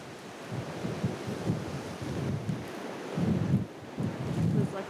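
Strong wind buffets the microphone during a winter blizzard, a steady roaring rush with gusts that swell and fade, loud and close throughout, with no voices.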